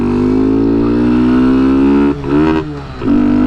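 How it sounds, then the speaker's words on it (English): A Kawasaki Z125 motorcycle engine revs hard and close as it accelerates, its pitch climbing steadily, then briefly dropping twice at gear shifts before climbing again. "It actually accelerates reasonably fun up to about 45."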